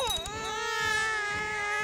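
Children crying and wailing as a sound effect in the Crusader Kings II video game, a high sobbing cry that bends in pitch, close and continuous over the short stretch without speech.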